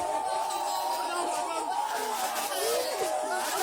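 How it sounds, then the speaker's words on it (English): Dense crowd noise from a large outdoor gathering held in protest over the killing of a baby in Bamenda, a steady babble of many voices with scattered shouts and whoops throughout. "look at that crowd"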